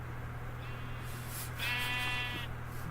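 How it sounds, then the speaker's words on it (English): Sheep in a video game bleat in two short wavering calls, moderately clear over a low steady background hum, with no voices. "This is how many white sheep usually spawn at a time."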